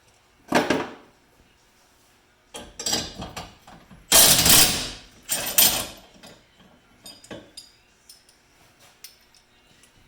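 A wrench or ratchet works bolts during a harness install on a Polaris RZR XP Turbo S 4, giving several separate metallic clanks and clicking bursts of varying loudness, close by with no talking.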